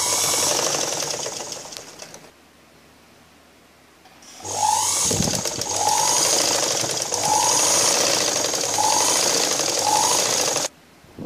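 A sewing machine stitches the front darts of a blouse. It runs in bursts with mechanical rattling and a pause in the middle, then a steady stretch of stitching before stopping abruptly.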